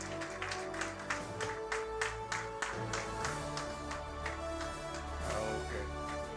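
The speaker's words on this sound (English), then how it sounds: "Can we have a round of applause?" Audience applause at a college event, a steady wash of many hands clapping throughout, moderately quiet and without speech over it.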